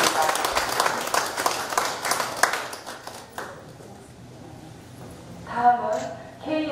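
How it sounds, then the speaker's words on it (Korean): An audience applauds at a gallery opening, with a burst of clapping that lasts about three seconds and then fades, before a voice starts speaking over a microphone. "빨리 완쾌하시라고 박수 한번 부탁드리겠습니다."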